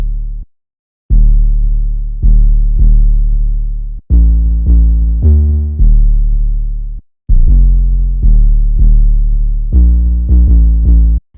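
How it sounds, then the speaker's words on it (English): An 808 bass pattern programmed in FL Studio for a hard trap beat, its attack slightly faded in. Deep sustained bass notes play in short rhythmic bursts and longer held tones, loud and alone, with brief gaps between phrases. "and then the 808 pattern sounds like this."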